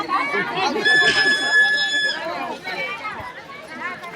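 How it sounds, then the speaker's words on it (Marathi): A bustling crowd chatters at a village fair market, with someone talking close over the dense babble of many voices and a brief high tone sounding midway. "गर्दी खूप अशी गर्दी आहे इथं बाजारामध्ये"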